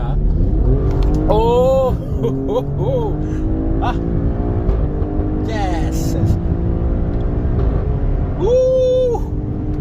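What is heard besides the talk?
Alfa Romeo Stelvio Quadrifoglio engine revving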